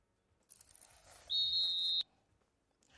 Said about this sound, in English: And that's the final whistle